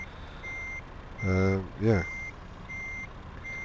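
Repeated truck reversing beeps in Euro Truck Simulator 2, a steady high tone pulsing at an even rhythm across the whole clip, with a louder engine or brake burst midway and a brief voice.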